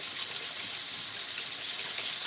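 Hot water runs steadily from a kitchen tap while making homemade soda, a continuous close, even gush with no talking.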